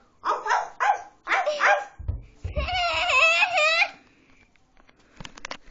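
A dog gives a few short barks, then a longer whining, yipping bark, with quieter sounds trailing afterward.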